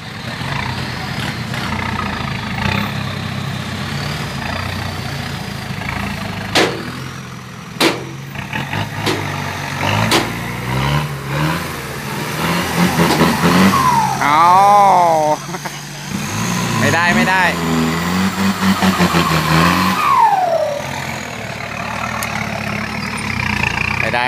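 A dump truck in Chanthaburi, bogged in mud up to its wheels, rumbles with a running engine that repeatedly revs and rises in pitch, while people talk over it throughout.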